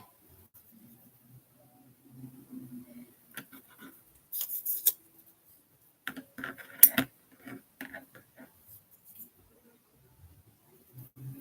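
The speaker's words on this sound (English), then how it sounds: "Then I just take my scissors and cut around it." Scissors snipping around a punched 1.5-inch paper circle for rolled paper flower embellishments, a few quiet close cuts and clicks in short bursts with faint handling noise between.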